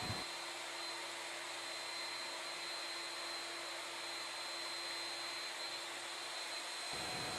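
A router milling a wooden Native American flute on a rack-and-pinion positioning rig runs as a loud, steady, continuous whine, holding an even level from start to finish without any voices.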